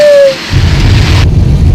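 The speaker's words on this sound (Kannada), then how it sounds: "ಇನ್ನು ಮಳೆ ಅಂತೂ ನಿಂತಿಲ್ಲ, ಫುಲ್ ಮಳೆನೇ ಇದೆ" Heavy rain in the hills near Dharmasthala, a loud, steady, dense roar of downpour that starts after a brief tone and a short quiet gap, with no talking.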